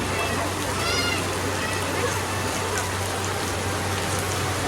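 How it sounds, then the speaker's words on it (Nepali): Heavy rain pours down in a steady, dense hiss that fills the whole stretch, with a voice faintly audible beneath the downpour. "ठुलै पानी परेको छ क्या"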